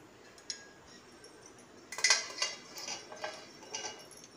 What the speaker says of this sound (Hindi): इस तरह दूध में डाल के अच्छी तरह से मिला लेंगे।